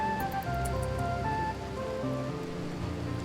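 Soft, steady rain falls on a foggy night in a swamp in the video game RimWorld, a faint continuous patter under sustained melodic tones.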